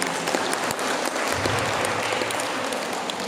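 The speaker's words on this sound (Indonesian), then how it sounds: "berikan dulu tepuk tangan yang meriah untuk beliau" Lively applause fills a teachers' workshop hall as the audience claps for a presenter from BPPMT, steady and dense throughout with no talk over it.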